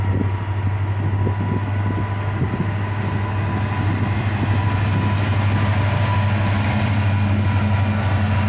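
A freight train led by an SD40-3 locomotive rumbles past nearby with a loud, continuous low diesel drone and rolling rail noise, steady throughout with no talk.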